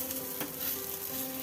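Maize-flour paratha sizzling on a hot tawa over a lowered gas flame, a steady close frying hiss with no voices.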